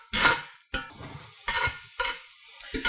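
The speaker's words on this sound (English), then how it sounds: "I'm trying to heat up a little bit and get a little saute action on these" Onions with Worcestershire sauce sautéing in a Lodge Blacklock cast iron skillet give bursts of sharp sizzle as they are stirred, about five separate surges with quieter gaps between, close and without talk.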